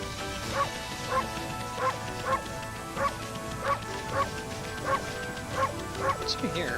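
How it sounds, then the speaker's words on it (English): Repeated dog barks from the video game Okami, evenly spaced yips roughly every half second against game background music, moderately loud and clear. "We fed those dogs."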